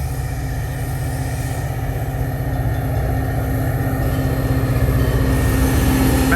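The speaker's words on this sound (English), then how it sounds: "The Metra train that comes to Manhattan from the Union Station" Metra commuter train coming in to the station in Manhattan, Illinois, a continuous low rumble with a steady rail hum that swells slightly louder as it draws nearer.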